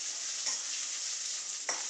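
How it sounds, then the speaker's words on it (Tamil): Grated coconut roasting in a pan for susiyam, a soft continuous hiss with two brief scraping stirs, quiet and with no voices. "முதல்ல தேங்காயை நல்லா பொன்னிறமா வறுத்துக்கலாம்"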